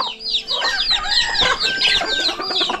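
Native chickens on Tatay Riot's farm cluck steadily and overlap one another, with a rooster-like crow rising through the flock. The sound is close, busy and continuous, and no one speaks.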